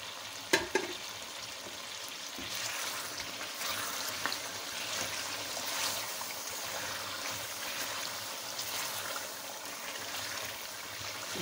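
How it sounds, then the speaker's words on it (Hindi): Mutton karahi frying over high heat, a steady close sizzle broken by scraping stirs and a couple of sharp clinks of a utensil against the wok, with no talking. "तेज़ आंच करके अब हम इसकी बुनाई करेंगे अच्छे तरीके से"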